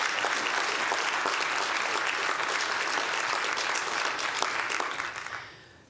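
A full round of applause from a large conference audience at the Clinton Global Initiative 2024 Annual Meeting, dense and steady clapping that stays strong, then fades away over the final second.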